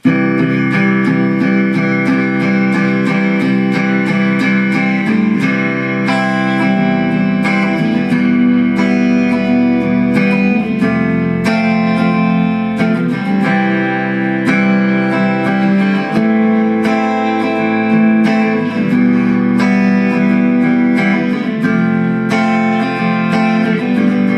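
A guitar plays a chord progression, strummed chords changing in steady rhythm, sustained and close, with no voices.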